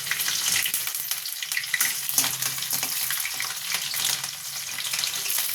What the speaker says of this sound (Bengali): এরপরে আমি কাঁচা লঙ্কা কাটাটা দিয়ে দেবো যেটা কেটে রেখেছিলাম।